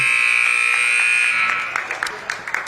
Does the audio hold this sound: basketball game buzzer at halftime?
yes